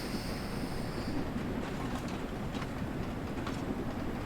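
Train in the Train Sim World 2 game running along the tracks and picking up speed, a steady low rumbling roar with a broad hiss, constant and fairly quiet, with no voices.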